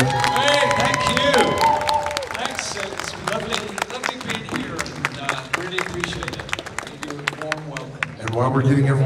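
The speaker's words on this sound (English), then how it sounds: "let's give them a round of applause, folks, if we could" Audience clapping at a fan convention panel, a burst of applause and cheering mixed with crowd chatter and voices, tapering into scattered claps and talk, then swelling again briefly at the end.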